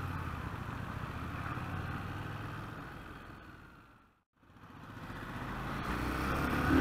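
A Harley Davidson motorcycle on a test ride, the rider opening the throttle: a steady, loud engine and wind roar that fades to a brief near-silence, then swells back up.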